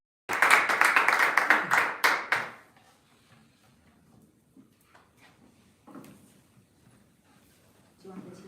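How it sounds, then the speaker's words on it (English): An audience at a devotional talk on Lord Shiva bursts into a round of clapping applause for about two seconds. It cuts off into a quiet room with faint scattered movement afterward. "So everybody give him a big round of applause."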